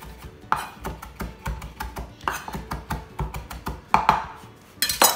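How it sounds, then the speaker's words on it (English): A knife chops fresh parsley on a cutting board in quick, fairly regular taps, close and crisp, with a few louder knocks toward the end. "chop up this parsley quick"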